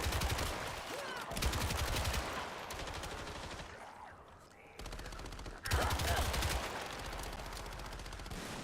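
Rapid pistol fire in the Toxic Commando shooter game, dense bursts of cracking shots over a noisy battle backdrop, pausing briefly in the middle before resuming loud and close.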